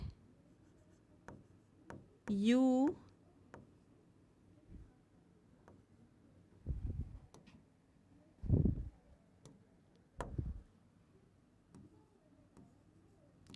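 Marker strokes scratch across a classroom board during a Class 12 biology lesson on codons, arriving as scattered short rubbing bursts with quiet gaps between them. A brief voice rises once near the start.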